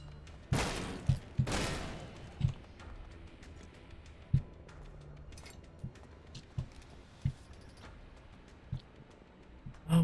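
Gunfire aimed at a behemoth in the video game Elex 2 comes as two loud, close, sharp blasts early on, followed by a string of quieter mechanical clicks and thuds spaced about a second apart.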